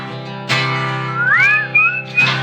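A person whistles a short wavering tune with sliding pitch, close and clear, with a few breathy gaps between phrases.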